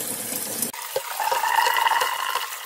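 Cold tap water runs steadily over anchovies being rinsed, a continuous close splash and trickle that shifts in tone partway through.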